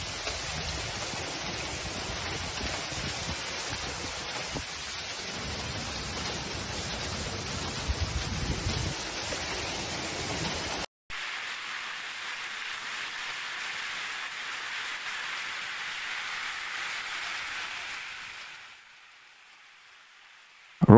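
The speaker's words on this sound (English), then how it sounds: "Rome faced an unexpected and ferocious hailstorm yesterday" A hailstorm in Rome pelts rooftops and cars as a dense, constant roar of hard impacts. It cuts out abruptly partway through, resumes slightly softer, then fades away near the end.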